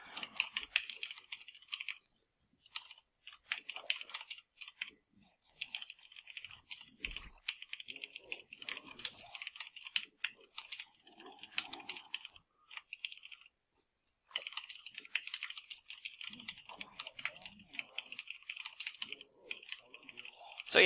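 Fast, steady typing on a computer keyboard, a dense run of light clicks with a couple of short pauses, close and fairly quiet, with some faint low background noise.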